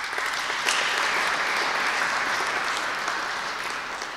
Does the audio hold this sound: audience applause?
yes